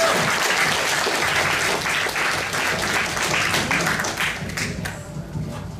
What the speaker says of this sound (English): Get another round of applause for Chris, aka Goji Fan 93